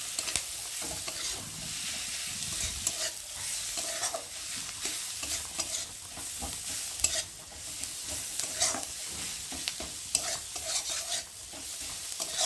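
Onion and green chili fry with chili powder in a pan, sizzling steadily for a long stretch while frequent scraping strokes of a stirring spoon repeat close by.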